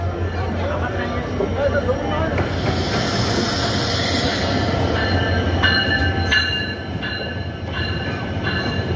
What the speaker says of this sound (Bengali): জয়পুরহাট এক্সপ্রেস